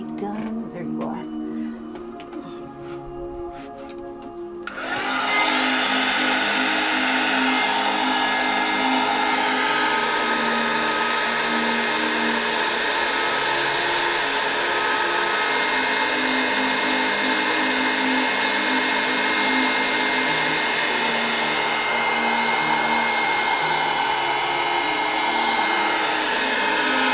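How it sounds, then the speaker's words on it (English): Handheld heat gun switched on partway through, then blowing a steady, loud whining rush of hot air up close after a few seconds of quieter background. "Where'd you go, little heat gun? There you are."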